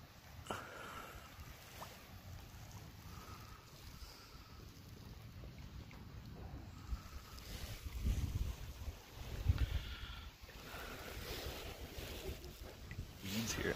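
Faint wind buffets the microphone outdoors near water at Grundy Provincial Park, with low gusty rumbles swelling and fading.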